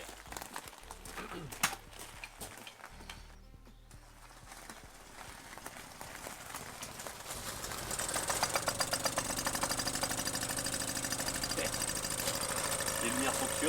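Small engine of a Solex moped running and warming up, a steady rapid mechanical chatter that grows louder and denser partway through, with faint background noise before it.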